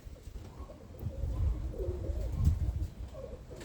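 Breeding roller pigeons, cocks and hens, coo softly and steadily at close range, low rounded calls repeating over a faint background, with no voices.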